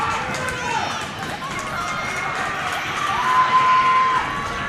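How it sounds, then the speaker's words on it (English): Spectators at a varsity high school wrestling match on their feet cheering for the West Fargo Sheyenne Mustangs, a sustained crowd roar with shouts, under a commentator talking over it. "And you got everybody over there on their feet cheering for the Mustangs."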